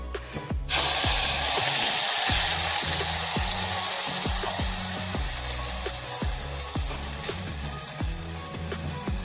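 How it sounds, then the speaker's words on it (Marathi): A ground paste of onion, garlic and ginger masala is dropped into two spoons of hot oil, setting off a sudden loud sizzle that settles into a steady hiss under regular ticking strokes. "आता मी आपण मिक्सरला जो वाटलेला कांदा लसूण अद्रक मसाला आहे तो टाकते"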